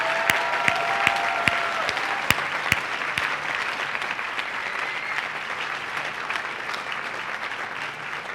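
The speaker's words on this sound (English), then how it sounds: "May I ask, please, for a hearty round of well-deserved applause." An audience at the Jewish Theological Seminary's commencement exercises gives a hearty round of applause. Sharp individual claps stand out near the start, then broad crowd clapping carries on steadily and gradually eases.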